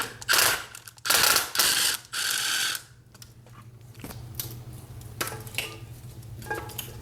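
Ratchet wrench working a ground bolt loose from a bracket on a 1995 Chevy OBS truck during an LS swap: four loud, close bursts of rapid clicking in the opening three seconds, then quieter scattered clicks and shop rustle.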